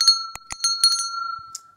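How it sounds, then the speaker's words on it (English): A short bell sound effect with a steady metallic ring and several quick bright strikes, clear and alone. "ringing that bell"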